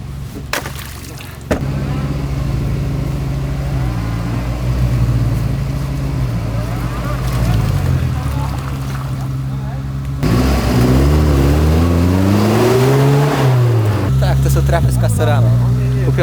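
Suzuki Jimny off-road rally car at an off-road rally event cranks and fires up, then its engine revs repeatedly in loud rising and falling surges, close by.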